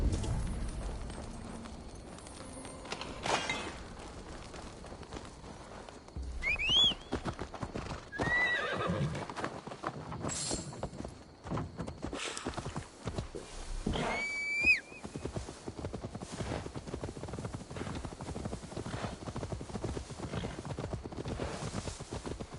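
Horse hooves clip-clopping in Assassin's Creed Valhalla, a steady rhythmic trot kept up throughout at moderate volume, broken by a few whinnies and snorts along the way.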